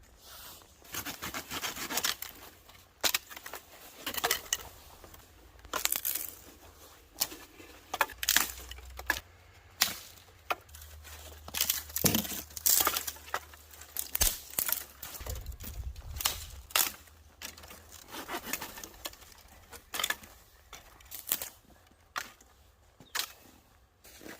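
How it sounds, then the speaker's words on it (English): Wood being cut up by hand outdoors in freezing cold for pottery firing, with repeated rasping saw strokes and scraping, uneven rhythm, close but fairly quiet, with occasional low thumps. "the first thing I need to do is cut up some wood"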